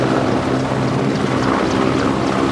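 A helicopter coming in to land makes a loud, close, steady roar of engine and rotor wash, mixed with heavy wind buffeting, with no distinct voices over it.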